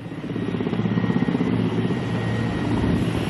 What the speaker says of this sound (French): malgré le balai des hélicoptères